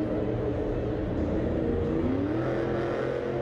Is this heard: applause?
no